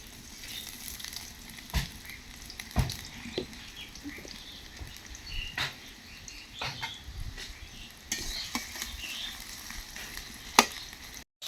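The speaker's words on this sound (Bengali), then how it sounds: "কড়াইতে দিয়ে দিলে সরিষার তেল, এখন দিয়ে দেবে পেঁয়াজ কুচি" Chopped onions sizzle and crackle steadily in hot mustard oil, with occasional clinks and scrapes of a utensil against the pan; no voices.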